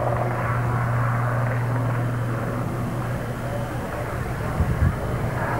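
A Lynx helicopter flies at the Humberside air show in 1992, its steady rotor and engine drone holding a constant low hum throughout, with a commentator talking over it.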